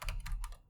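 A few quick, soft keystrokes tapped on a computer keyboard, close and quiet, fading out after a brief burst.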